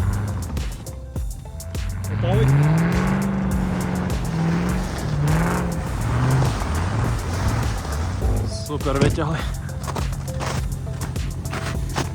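A car stuck in snow revs its engine in long rising and falling drones, loud and close, with tires churning, while people talk over it.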